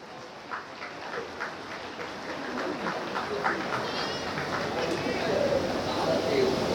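An audience at a company's triple celebration function claps. The applause builds from scattered claps into steady, dense clapping that holds to the end.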